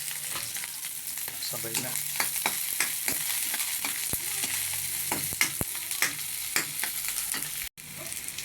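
Garlic and ginger sauté in a hot pan with a continuous close sizzle and intermittent stirring clicks, while a voice briefly speaks.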